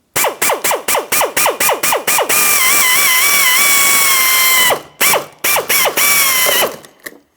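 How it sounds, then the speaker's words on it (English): A drill bores a hole into the plastic backing of the lower mirror glass on a 2007-2014 GMC Sierra 2500 HD. Quick clicking, ratcheting bursts lead into a sustained whining run, then more short choppy bursts, close and loud. "I'm going to start drilling a hole so we can make our way in."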